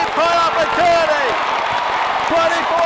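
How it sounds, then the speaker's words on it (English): Loud arena crowd roars steadily at the American Airlines Center during a 2014 Mavericks–Portland playoff basketball game, a dense wash of cheering with an announcer's voice talking over it throughout. "The crowd is deafening here at the American Airlines Center."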